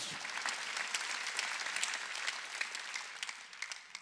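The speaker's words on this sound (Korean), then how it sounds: "박수 치라 박수" A church congregation at a Wednesday worship service breaks into sustained applause. Dense, even clapping fills the space at moderate distance.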